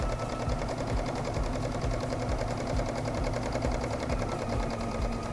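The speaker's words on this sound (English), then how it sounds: "Stitching all the way down to the pin" Home sewing machine running steadily with a 3.5 stitch length along a fabric edge while recycling a turtleneck into a top, its motor hum and rapid needle ticking continuous and close with no talk.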